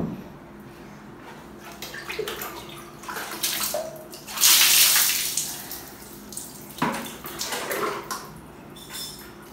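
A child is bathed indoors on a hot day with water pouring and splashing, a strong loud gush in the middle and shorter pours around it, drips and handling sounds between, without speech.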